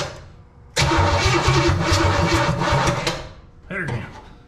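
A 1939 Pontiac Coupe engine that had sat unused for 46 years cranks and catches with a loud sputtering roar, runs roughly for a few seconds, fades, then coughs once more briefly.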